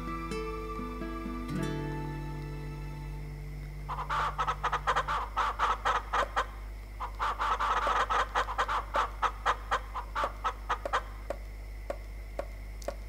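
Chickens clucking on a farm in the video game Ma Ferme 2018, a fast run of sharp repeated clucks after a brief melodic chime, over a steady low background hum.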